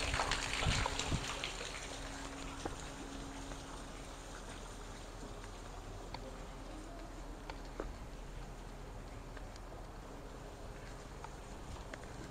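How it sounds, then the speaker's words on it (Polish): Water trickles gently from a fountain in a Polish town, a soft steady patter and dribble close by with faint outdoor ambience and no talk. "Kiedy słyszysz tym, jak to woda tak cieknie."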